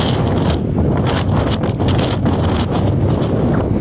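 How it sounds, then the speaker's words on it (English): Wind batters an outdoor phone microphone on a blustery waterfront in Palm Beach, a loud, constant low rumble and hiss with rough buffeting bursts and no clear voices. "Excuse the shaking of the phone because it is windy out here."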